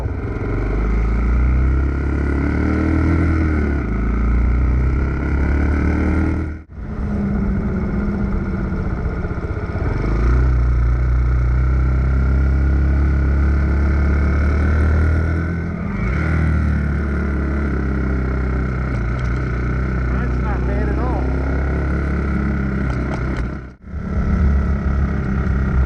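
An RPS Hawk DLX 250 dual-sport motorcycle rides on the road with a steady droning engine and wind noise, and the engine briefly drops away at each of a few gear changes.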